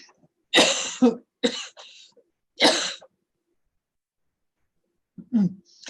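A few sharp, loud coughs in quick bursts, with a short pause and then another softer cough at the end; no talking.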